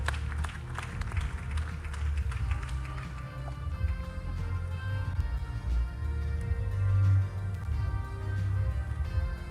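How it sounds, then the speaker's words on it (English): An audience at a media awards ceremony claps in a steady wash of applause, heard at a middling level with a low hum under it and no voices standing out. "Shall we congratulate him with another round of applause?"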